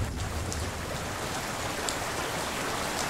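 Flowing water in the video game Hellblade: Senua's Sacrifice, a constant dense rushing and splashing wash like heavy rain or a stream, steady and fairly loud throughout with no talk.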